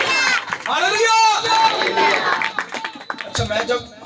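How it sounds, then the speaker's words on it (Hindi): A church congregation claps loudly and rhythmically while a preacher's voice and the crowd's calls ring out over the beat. "हम जोरदार तालियां बजाकर खुदा के नाम को बोलें"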